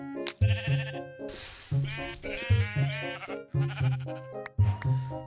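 Sheep in the video game Minecraft bleat in a run of short, nasal calls repeating at a steady pace, clear and close with brief pauses between them.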